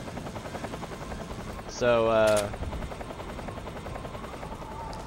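Helicopter in Metal Gear, a steady rotor hum that swells briefly into a louder pulsing burst, with someone speaking briefly.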